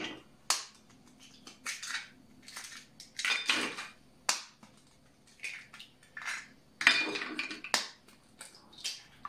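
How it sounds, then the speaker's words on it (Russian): Five eggs are cracked one after another into a bowl for waffle batter, giving sharp shell cracks, taps against the rim and soft splats, close up and without talk. "Разбиваем 5 яиц."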